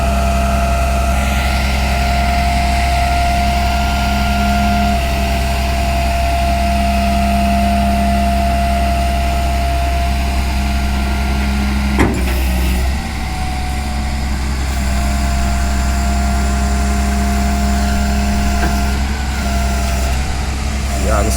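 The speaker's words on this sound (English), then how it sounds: "you might can't hear me right now because the truck going." A truck engine runs nearby, producing a loud, steady droning idle with a constant low hum and no pauses. A voice is faintly present underneath.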